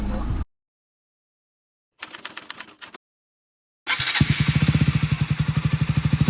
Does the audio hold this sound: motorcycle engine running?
yes